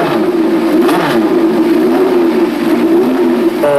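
Formula 2 racing car engine, capped around 10,000 rpm, holds a loud, close, continuous high-revving drone with slight pitch wavering throughout and no talking.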